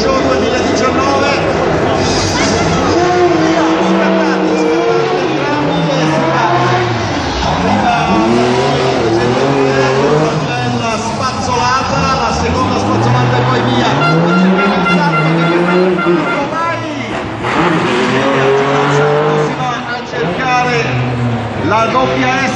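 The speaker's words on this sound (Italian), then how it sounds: "si alzano i motori, parte questo Master Show 2019." Rally cars at the start of a motorsport show at Monza rev and accelerate, with engine pitch rising and falling in repeated sweeps under continuous excited commentary.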